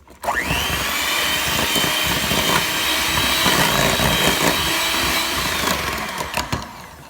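An electric mixer beats an egg into oatmeal cranberry cookie dough, starting abruptly into a loud, steady motor whine with faint rattling against the bowl, then easing off near the end; no one speaks.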